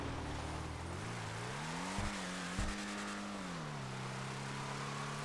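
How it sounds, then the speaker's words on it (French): A car engine runs steadily up close while the car is driven gently on a slippery surface. Its pitch rises and falls as the revs change, and two brief thumps land in the middle. "Et le bruit du moteur aussi."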